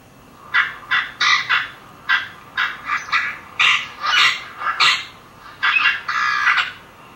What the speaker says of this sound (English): Here's the common grackle.